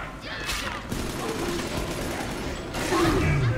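Bursts of machine gun fire in the video game Bioshock 2, with a rattling volley near the start and another toward the end over busy game noise and no talking.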